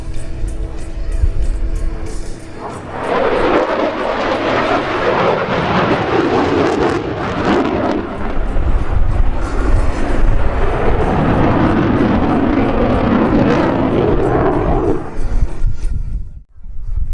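A USAF F-16 fighter jet roars past at an airshow, a loud sustained engine rumble building and holding for many seconds before briefly dropping off near the end.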